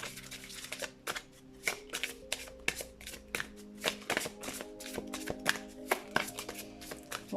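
Tarot cards are shuffled and drawn in quick, crisp bursts of riffling and slapping, close and fairly quiet, repeating irregularly throughout with no talking.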